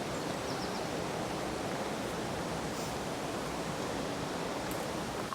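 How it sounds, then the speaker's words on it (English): Dundaff Linn waterfall on the River Clyde at the Falls of Clyde gives a steady, unbroken rushing roar of falling water, even and close, with no voices. "And Dundaff Linn was the waterfall you can hear down to the left of us here"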